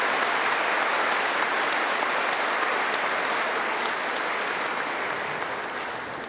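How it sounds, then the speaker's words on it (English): Sustained audience applause at a university commencement ceremony, a dense steady wash of many hands clapping that stays loud throughout and tapers slightly at the end. "One more round of applause, please, for all those people who made it possible for our graduates to be here today."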